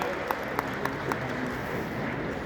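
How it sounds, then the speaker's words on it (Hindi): Applause from an audience at the Rising Rajasthan event in Jaipur, welcoming Shri Dharmendra Pradhan: a steady wash of distant clapping with a few sharper hand-claps standing out, moderately loud and continuous. "एक बार जोरदार तालियों से उनका स्वागत और अभिनंदन।"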